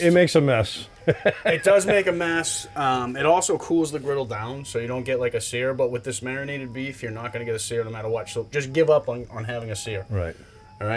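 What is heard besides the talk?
No everyday noises stand out.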